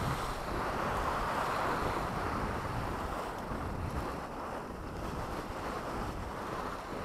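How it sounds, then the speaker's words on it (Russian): Strong wind at the sea roars continuously against the microphone, with a broad rushing buffeting and surf-like noise underneath, no voices. "Здесь ветер. Жесткий, жесткий ветер."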